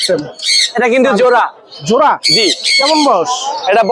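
Sun conure parrots at a busy Mirpur bird market squawk loudly and repeatedly, harsh screeching calls coming in bursts close by with little pause.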